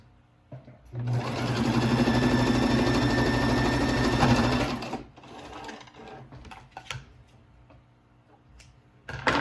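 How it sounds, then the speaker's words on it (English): A sewing machine stitches around all four sides of a cloth mask, running in a steady, loud, continuous burst for several seconds before stopping, with quieter handling noises and some talk afterward. "Once you get all 4 sides sewed,"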